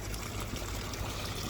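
Water from a garden hose runs downhill from a pond toward a building, a steady broadband rushing and trickling wash that fills the whole stretch evenly without pause.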